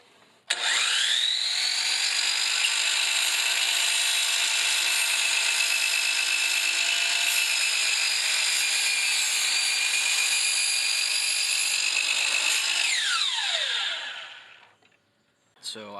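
A power saw whines up and cuts straight through a vinyl window sill, a loud, steady high-pitched buzz for about thirteen seconds before spinning down to a stop, close by with no talking.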